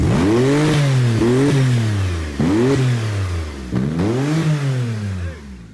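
A wrecked Porsche 911 engine revs up and drops back repeatedly, several loud, close blips in a rising-and-falling rhythm with no talking.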